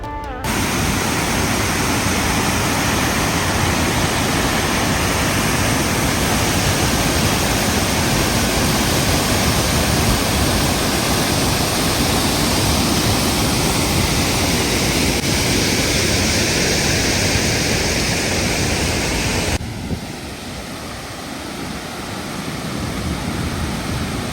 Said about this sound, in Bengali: কিন্তু পুরোটা সপ্তাহ জুড়ে এই ঝর্ণা আপন মনে গান গেয়ে যায়